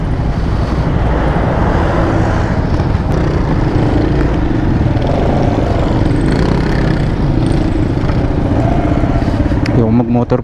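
Motorcycle passing on the Vergara Highway near Cabanatuan after a typhoon, a loud engine roar mixed with wind and traffic noise, steady throughout with a voice talking faintly under it.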